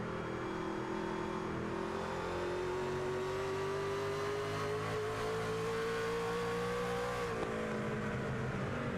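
Onboard the number 45 race car at IRP in a racing league event, the engine drones at high revs, its tone climbing steadily as it runs down lapped cars, then dropping sharply near the end.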